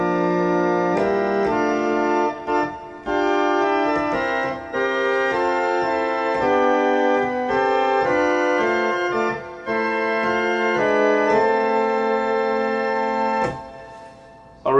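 Church organ plays the hymn tune Abbot's Leigh (Glorious Things of Thee Are Spoken) with both hands, sustained full chords moving phrase by phrase, loud and continuous with brief breaths between lines.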